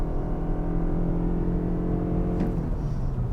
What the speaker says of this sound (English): We'll go ahead and brake torque it. Full throttle, no drama, no wheel spin and no torque steer actually.